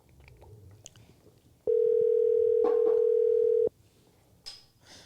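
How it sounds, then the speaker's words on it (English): A steady electronic telephone tone sounds for about two seconds after a voice assistant is asked to place a mobile call, with quiet room noise and faint voices before and after it. "to confirm, you'd like to call Anders E. Mobile"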